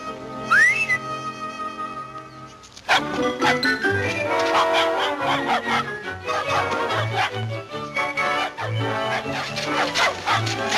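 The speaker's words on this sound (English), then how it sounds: "Bumstead whistles." A man whistles a short rising note near the start, alone in a 1940 comedy film scene, then full orchestral music takes over with a bouncy bass line.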